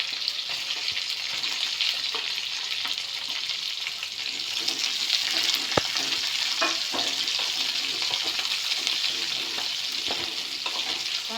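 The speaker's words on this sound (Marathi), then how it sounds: "कांदा चांगला तळू द्यायचा आहे." Chopped onion frying in a pan while noodles are cooked at home, giving a steady close sizzle with occasional light stirring scrapes and pops.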